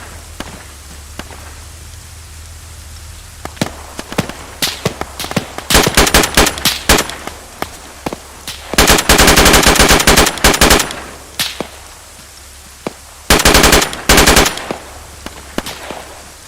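Gunfire in the military simulation game Arma 3, with scattered single shots and then long, loud bursts of rapid automatic fire, close and harsh over a low background rumble.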